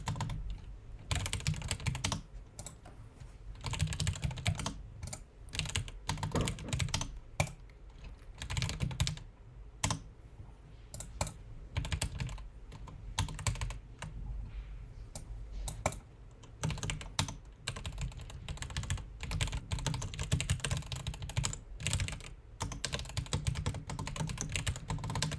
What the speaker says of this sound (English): That does sound pretty good, though. That would be relaxing. That's a cool keyboard.